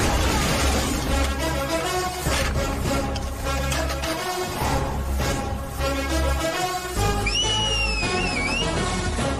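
Someone whistles in a Ravi Teja Hindi action movie scene, a short rising and falling tune near the end that rides over loud, dense background music.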